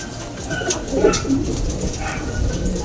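A racing pigeon with an injured foot coos softly and close by, its low murmuring calls repeating over a steady background hiss.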